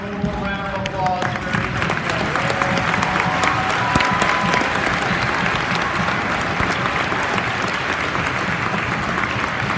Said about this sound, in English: Let's give our performers and veterans a warm round of applause.